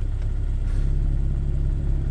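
A Porsche Cayman S 987.2 engine with the sports exhaust open gives a steady, low rumble throughout, a bit throatier in places, heard up close with no talking.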